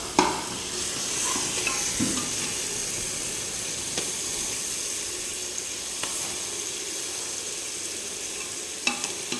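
Onions and tomatoes sauté in a large pot for biryani with a steady close sizzle and hiss, while a spoon stirs and occasionally knocks against the metal.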